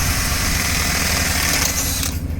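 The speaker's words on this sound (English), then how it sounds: "So I'm shutting these curtains on the back side of the freestall barn" Motorized curtain on the back side of a freestall barn being closed, a loud steady mechanical whirring drone of the drive that cuts off abruptly near the end.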